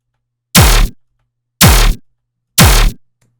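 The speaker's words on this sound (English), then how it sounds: "to make sure that they end up having that big transient that like those machine gun basses need" Three loud dubstep machine-gun bass hits with a big punchy transient, evenly spaced about a second apart, each a short growling blast that cuts off sharply, alone.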